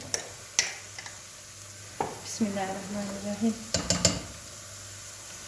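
A tablespoon stirs and scrapes through pickled chili peppers in a pot or bowl, a few sharp clinks of metal against the container with wet squelching between them, while a voice speaks briefly.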